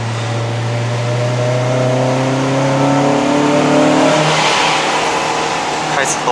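A 2010 Honda Civic Type R FD2R engine pulls hard uphill on a mountain road in Malaysia, its loud rising drone climbing steadily in pitch under a voice talking.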